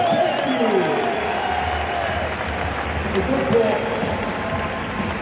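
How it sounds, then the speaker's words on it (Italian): Crowd at a K1 kickboxing bout applauding after a round ends, a continuous wash of clapping and cheering mixed with voices and arena noise throughout. "vorrei sentire un applauso"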